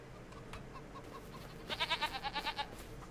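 Goats bleat in the video game Farming Simulator 2025, a single wavering, pulsing bleat of about a second rising after a quieter stretch with faint chirps, fairly soft in the mix.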